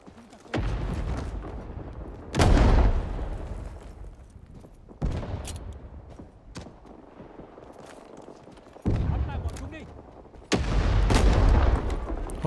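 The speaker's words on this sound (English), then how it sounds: "Hopefully that nade took him out." Grenade blasts and gunfire in the video game Rising Storm 2 on the Apache Snow map: five heavy booming explosions spaced a few seconds apart, each rolling away into a rumbling tail, with scattered shots in between.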